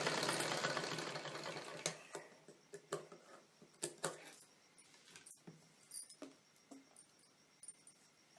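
Domestic sewing machine stitching a folded section of blouse fabric, close and steady at first, then breaking into a series of short separate bursts with pauses between them.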